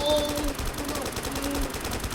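Rapid automatic gunfire from an SMG in the Roblox game Black Hawk Rescue rattles in quick repeated bursts at moderate loudness throughout.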